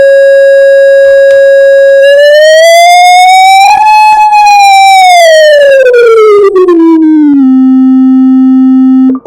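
A loud, pure electronic tone from a speaker glides smoothly upward in pitch as the frequency is raised, peaks, then sweeps back down before settling on a steady low note; no voices.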